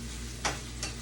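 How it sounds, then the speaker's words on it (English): Ackee and saltfish sautéing in a pan, a soft, continuous sizzle with two quick scraping stirs. "So I just let this saute a little."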